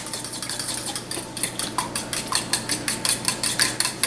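A whisk clicks rhythmically against a bowl while wet brownie ingredients with vanilla are beaten, close quick scraping taps that grow faster and sharper.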